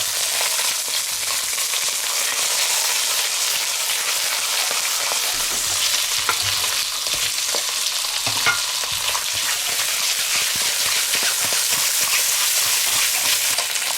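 Two crucian carp fry in hot oil in a wok with a constant bright sizzle and crackle, plus occasional light spatula taps; no one speaks.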